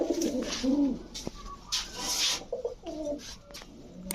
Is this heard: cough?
no